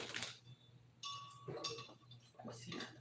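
Chickpeas tumbling into a blender jar: a few sharp clinking and rattling hits against glass or plastic in quick bursts, close up and fairly quiet, with no talk over them.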